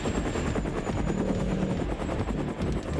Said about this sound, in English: Chopper is taking some damage.